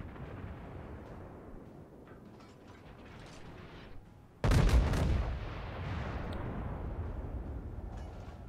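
A Tirpitz battleship in World of Warships fires a sudden heavy salvo, one loud booming blast that rises out of low engine and sea rumble and leaves a rolling, lingering roar afterward.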